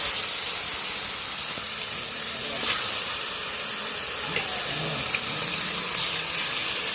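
Chicken frying in oil in a home kitchen, giving a steady, loud sizzling hiss that stays close and continuous throughout, with faint voices in the background.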